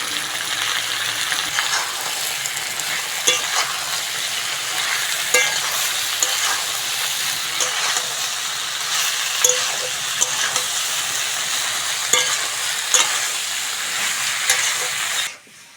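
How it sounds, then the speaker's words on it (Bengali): Ridge gourd and potato frying with green chilies and poppy seed paste, a loud steady sizzle with regular scraping stirs of a spatula throughout, close by and free of talk, stopping suddenly at the end. "কটা কাঁচা লঙ্কা নিয়েছি ওর মধ্যে দিয়ে দেবো সঙ্গে পোস্ত বাটা দিয়ে ভালো করে কষে নেব"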